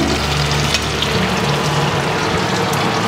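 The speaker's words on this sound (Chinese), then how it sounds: "混合的差不多了，我们往里加水。" Water pours into soybean paste sauce frying in oil, a steady close sizzling wash with bubbling and gurgling across the whole stretch, no voices.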